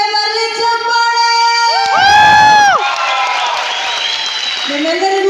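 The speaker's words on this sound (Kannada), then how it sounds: "ಎಲ್ಲ ಅಭಿಮಾನಿಗಳಿಗೆ ಬರಲಿ ಚಪ್ಪಾಳೆ" Audience cheering and clapping at the Coastal Film Awards 2022 show, a loud swell of crowd noise rising under a blaring musical stinger, then lively applause continuing.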